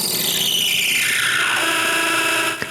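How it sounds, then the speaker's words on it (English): Drill press bit grinding against a hardened steel chainsaw blade, a loud continuous rasping whine that slides downward in pitch over a few seconds before a small click at the end. "I go back to the drill press and try to drill them again"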